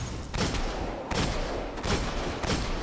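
Pistol fire in the Destiny beta on PS3, a few loud, sharp shots spaced roughly every half second to second over steady game background, with no talking.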